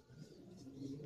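Racing homer pigeons cooing in a Kolkata loft, a steady low murmuring coo that runs throughout at moderate distance, with no talk.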